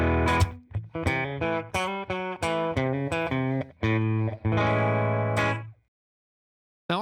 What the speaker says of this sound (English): kind of acts like a short room reverb